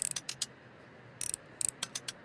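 Faint, small clicking and ratcheting taps of a screwdriver unscrewing screws from an electronic device in the Restory repair game, coming in short clustered bursts with quiet gaps between.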